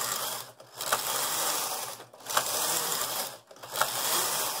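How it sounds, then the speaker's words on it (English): A Brother KH892 knitting machine knitting lace, with the carriage sliding back and forth in a steady rhythmic whir and clatter, pausing briefly with a click at each end of the row, close and moderately quiet. "We're testing lace on a newly repaired 892. This is one of my favorite machines."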